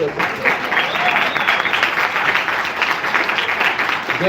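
An audience applauding a lawyer guest specializing in corruption and compliance, loud, steady clapping throughout, with a little voice mixed in near the edges.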